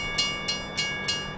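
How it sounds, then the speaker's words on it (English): A train in Farming Simulator 17 rolls through the countryside with a steady rumble. Regular clickety-clack beats come about every third of a second, evenly spaced and close. "We're just going to go through the countryside on the train."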